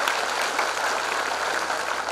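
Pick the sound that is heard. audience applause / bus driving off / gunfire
audience applause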